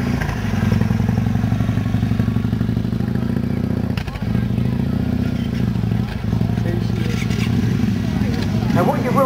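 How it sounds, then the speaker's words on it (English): A Yamaha Wild Star motorcycle idles and rides out at a motoring pageant in Bath, its steady loud engine rumble lasting throughout with a brief dip midway, while people talk nearby. "So Kev, if you'd like to come out with yours. This one's a Wild Star"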